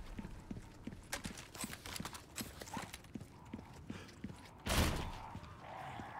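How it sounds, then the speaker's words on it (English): Fire-breathing horses' hooves clip-clop in a quick, irregular rhythm in Resident Evil 4 Remake, with a sudden loud burst of noise near the end. "Those look like fire breathing horses to me."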